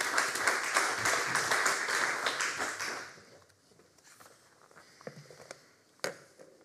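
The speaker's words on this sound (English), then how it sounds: "I would just like to ask you for a round of applause to make them feel welcome" An academic conference audience gives a dense round of clapping that fades away after about three seconds, leaving quiet room rustle and a couple of sharp taps.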